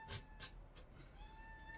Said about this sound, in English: That's a very loud cat.